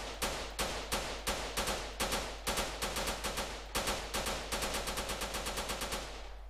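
Modded weapon firing in GTA San Andreas: loud, sharp single shots in an even rhythm, speeding into faster bursts toward the end, each with a short metallic ring, heard alone without talk.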